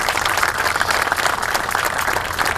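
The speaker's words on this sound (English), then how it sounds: "I wonder if we can give him a round of applause." Crowd at an outdoor roundabout dedication ceremony applauding, a continuous even patter of many hands clapping for a couple of seconds, no voices over it.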